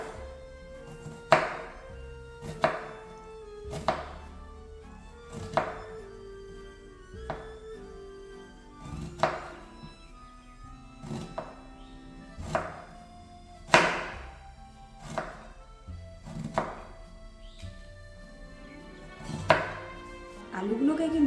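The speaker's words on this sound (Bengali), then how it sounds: "এখন আমি ছুরি দিয়ে কুচিয়ে নেব।" A knife finely chops thin-sliced potatoes on a board for jhuri aloo bhaja, making close, crisp thunks in a steady, unhurried rhythm, roughly one blow every second, with no voices.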